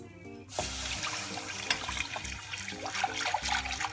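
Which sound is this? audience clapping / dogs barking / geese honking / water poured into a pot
water poured into a pot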